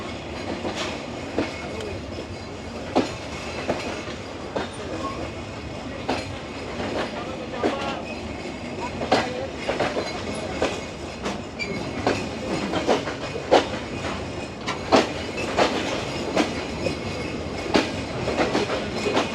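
Simanta Express passenger train pulling out of Natore railway station in Bangladesh, heard from on board: a steady rolling rumble with regular clickety-clack wheel beats growing more frequent as it gathers speed.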